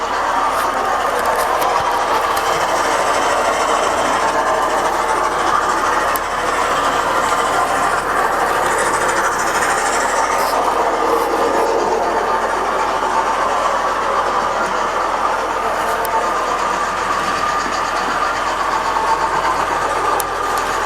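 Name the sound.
model railway locomotive running on track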